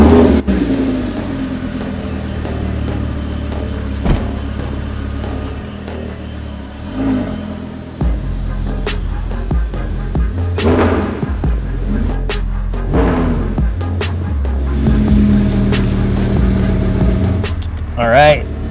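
A VF-Engineering supercharged Audi R8 fires up and revs in a garage, with several sharp engine bursts and blips rising over an idle, while people talk nearby between the revs.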